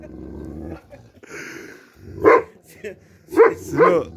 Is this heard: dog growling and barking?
yes